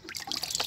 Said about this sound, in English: Put the water in this bit where my little finger is, where that orange seal is.